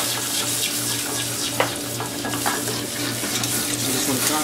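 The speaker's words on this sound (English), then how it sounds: "You just want to constantly stir." Butter being stirred steadily into a shrimp scampi sauce in a pan taken off the heat, a continuous close sizzle and wet scraping with a few sharper clinks, no voices.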